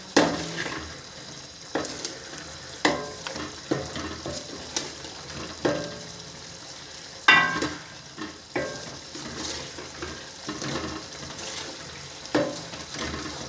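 Potatoes and chicken are sautéed in a pot for palak gosht, with a steady sizzle under repeated sharp stirring knocks and scrapes spaced about a second apart, close and clear, with no voices.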